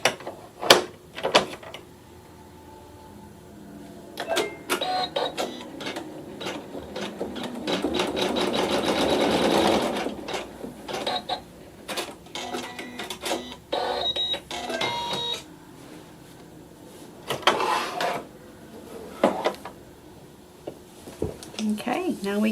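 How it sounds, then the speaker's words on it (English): A sewing machine stitches a seam through quilting fabric, its close mechanical whir rising into a sustained run mid-way, broken by short clicks and handling noises before and after. "and we're sewing a seam"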